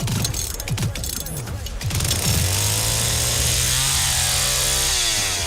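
Chainsaw in a video game trailer, heard first as rapid mechanical rattling and clanking, then a loud, steady engine snarl that holds and rises slightly in pitch, close and dominant.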